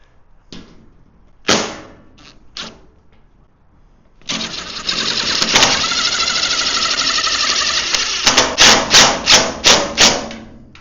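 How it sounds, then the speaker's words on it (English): A power drill runs in short bursts during a powder coating oven build, then grinds steadily for about four seconds as the bit bores into metal, ending in a series of rapid pulsing trigger bursts, close and loud. "Let's see if this drill bit works well."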